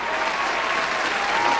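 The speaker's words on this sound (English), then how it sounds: "give a round of applause to Robert Whittaker" An audience claps in dense, steady applause that stays loud and even throughout, with no pauses or voices standing out.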